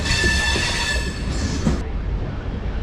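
A train rolls along the tracks with a steady rumble and a high metallic squeal ringing over it. No one speaks.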